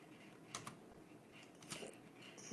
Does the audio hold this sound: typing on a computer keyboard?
yes